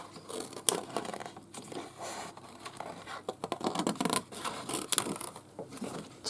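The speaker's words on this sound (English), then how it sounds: "I'll just cut it a little bit rough to start with." Lace material roughly cut with scissors for a handmade journal, a close series of crisp snipping and scratchy fabric rustles in uneven bursts, moderately quiet, no talking.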